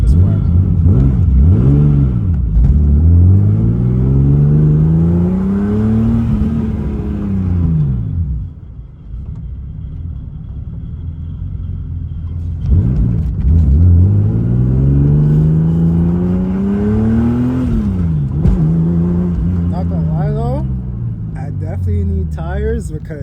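A turbocharged S50 BMW E36 M3 with a new exhaust pulls hard through the gears, its engine note climbing and dropping across two loud accelerating runs heard from inside, with a driver talking over the noise.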